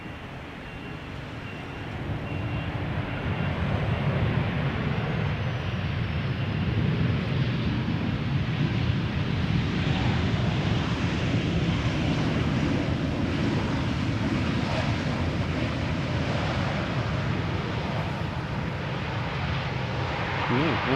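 A KLM Boeing 737-800 (PH-BGA, built 2008) arriving at Amsterdam Schiphol after a flight from Paris Charles de Gaulle, heard as a steady broadband jet roar holding for about twenty seconds outdoors, with wind buffeting the microphone.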